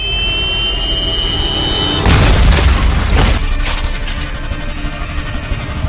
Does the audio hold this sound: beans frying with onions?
no